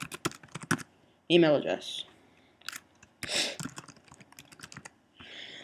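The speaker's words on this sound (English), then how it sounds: "you want to type in your" Computer keyboard being typed on, quick clusters of close key clicks spread across the moment, with a voice speaking between the bursts.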